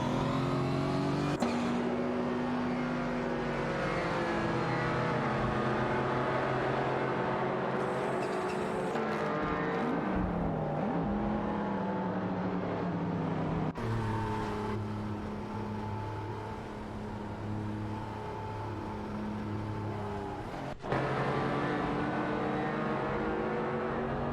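A De Tomaso Pantera and a Ferrari 512 TR race each other in a video game, their engines droning and shifting pitch steadily and loudly, with no voices over the mechanical roar.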